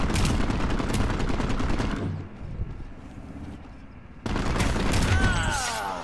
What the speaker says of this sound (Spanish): Escucho por ahí tiros hacia la izquierda.